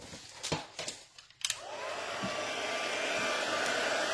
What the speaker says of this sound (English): grab our heat tool